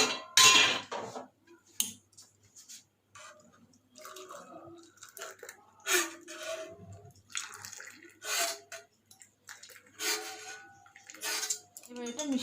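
Hot masala tea is poured through a strainer into a cup already holding a little black salt, with splashy trickling bursts and a few clinks, close and intermittent.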